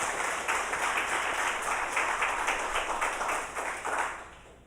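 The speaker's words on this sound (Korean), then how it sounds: "우리를 돌보시고 지키신 하나님께도 우리 영광의 박수를 한번 돌려야 되겠죠" A congregation claps during a Sunday worship service at a church, giving glory to God; even, rhythmic applause fills the room for several seconds, then fades out near the end.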